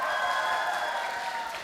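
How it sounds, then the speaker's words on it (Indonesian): Audience clapping at a Hindu youth leadership training camp, a dense steady patter of many hands filling the room, tapering slightly toward the end with no talk over it. "tepuk tangannya mana yang sebelah sini?"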